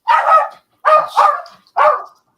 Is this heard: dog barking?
yes